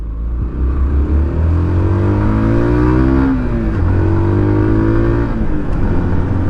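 A Yamaha YBR 125 motorcycle with an Akrapovic exhaust revs loudly and steadily, its pitch rising and falling as it accelerates and eases off, with a continuous close rumble and no talking.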